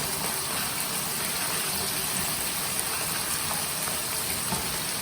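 Water is poured into a pot of tomatoes cooking for rustic aloo paneer sabzi, making a steady, continuous rushing wash that is fairly loud and even throughout.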